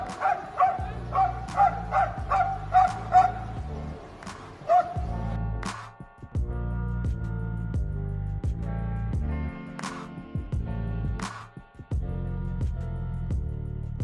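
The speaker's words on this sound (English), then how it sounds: "A smart and protective dog barking at cars to keep them away from the crossing." A protective dog at a road crossing barks in a rapid run of sharp yips, then gives a few more spaced barks over deep, steady tones of passing cars.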